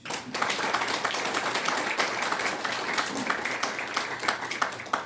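Sustained applause from an audience at the opening ceremony of a presidential VR memorial hall in Korea, dense steady clapping from many people, loud and close, starting abruptly and continuing without talk.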